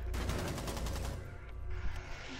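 Shotgun and rapid weapon fire in a Rainbow Six Siege match, a quick series of sharp, closely spaced shots at first, then a rumbling tail and a couple of scattered impacts.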